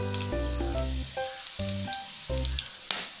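Banana-stem cutlets sizzle steadily in hot oil, a close, continuous frying hiss broken by a few brief clinks and scrapes, with no voices.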